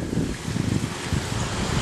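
Gusty wind on a windy day buffets the microphone, making a steady, rough, low rumble that swells and dips with no talk.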